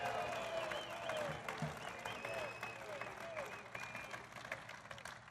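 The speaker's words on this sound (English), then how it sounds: "they're shouting, Lou. They're not booing" Large rally crowd in Old Forge, Pennsylvania chanting the name Lou over sustained applause and cheering, a loud, continuous roar with rhythmic shouted calls riding on top throughout.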